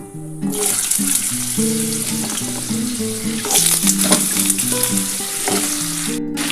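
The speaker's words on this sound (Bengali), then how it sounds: "আর 5 ফোড়নটা আর শুকনো লঙ্কা দিয়ে এটা আমি কিন্তু আলুটাকে একটু হালকা করে ভেজে নিই" Constant loud sizzling of potatoes frying with spices and dried red chilies in oil, with stirring scrapes, while a melodic music track plays throughout.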